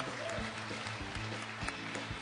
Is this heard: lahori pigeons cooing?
no